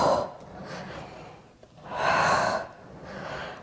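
Forceful exhaled breaths during an intermediate Pilates reformer exercise, two long breathy pushes of air about a second apart, close and fairly loud with a faint snort-like catch between them, no talking.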